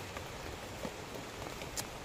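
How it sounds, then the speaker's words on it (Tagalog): Heavy rain falling outdoors, a steady soft hiss of drops with a few brief louder splashes, fairly faint and with no talk. "lumalakas ang ulan. Mas malakas ngayon ang ulan kaysa kanina"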